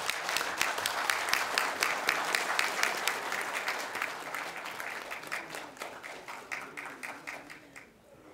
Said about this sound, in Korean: 큰 박수로 받아주시기 바랍니다